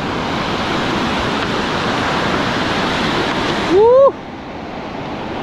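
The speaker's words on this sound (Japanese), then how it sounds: "ちょっと波の音はうるさいんですけど" Ocean waves break steadily on a surf beach, a loud continuous roar of surf close by, with a short vocal groan rising over it near the end.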